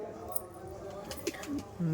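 Kalshira pigeons coo in low, rolling bursts beneath nearby human talk that runs through most of the stretch.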